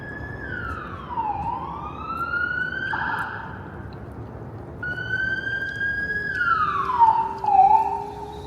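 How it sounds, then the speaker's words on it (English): An ambulance siren wails and sweeps up and down in pitch as it approaches from behind, loud and close over steady Toronto traffic rumble. "there's an ambulance coming up behind me."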